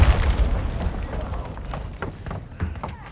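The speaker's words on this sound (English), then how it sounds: "Friendly cruise missile approaching target." A cruise missile strike lands in Call of Duty: Modern Warfare II, opening with a heavy deep boom that decays into rumble, followed by scattered sharp crackles of battle.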